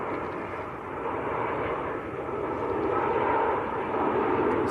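A long-haul airliner arriving at Manchester Airport after an eleven-hour flight from Delhi, its engines a steady, loud broadband roar that swells slightly and holds throughout, with no talk over it.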